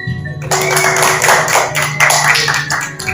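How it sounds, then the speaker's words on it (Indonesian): Audience applause breaking out after a poetry reading at an NU/GP Ansor gathering, a dense patter of many hands clapping at steady loudness with some room echo, lasting about three seconds. "Boleh tepuk tangan sekali lagi untuk rekan kita Ais Butiatul Maria"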